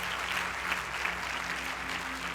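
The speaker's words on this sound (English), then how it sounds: "I think we should give them a round of applause." A steady, moderately distant wash of audience clapping fills an awards ceremony hall, even and continuous throughout with no voices on top.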